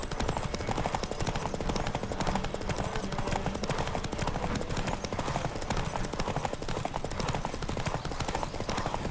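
Horse hooves pound in a fast, continuous galloping rhythm in The Witcher 3: Wild Hunt, loud and steady throughout, with dense game sound effects layered around the hoofbeats.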